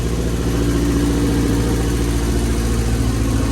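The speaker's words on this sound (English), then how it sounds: "Don't rev it, just let it idle." A Honda B18C1 engine in an Acura Integra GSR, fitted with a 4-1 header, idles steadily with a continuous, even low rumble that stays loud and close throughout.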